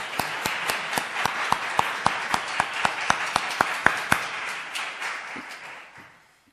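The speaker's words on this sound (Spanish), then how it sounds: "Yo os pediría un aplauso para Miguel" An audience claps in unison for Miguel at a church community gathering, a crisp, evenly paced beat of around fifteen strong claps that softens into scattered clapping and fades to quiet.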